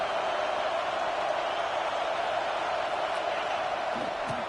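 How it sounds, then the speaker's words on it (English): Stadium crowd in the EA College Football 26 video game, a steady even roar urging on the defense at a red-zone stand, with light commentary over it. "This crowd is trying to inspire this defense to make a big red zone stop"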